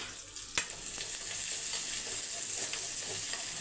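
Cumin, garlic cloves and green and dried chillies frying in hot coconut oil, giving a constant bright sizzle with a sharp spatter pop near the start and faint stirring.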